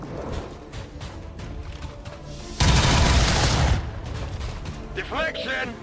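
Gunfire in the XCOM Amalgamation mod: a loud burst of overlapping shots in the middle of the stretch, with dense in-game combat noise before and after and a rising electronic effect at the end.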